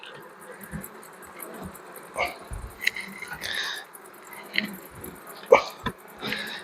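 Honey bees buzz around an open hive, their drone faint and uneven with a few louder passes close by, over quiet background clicks and handling.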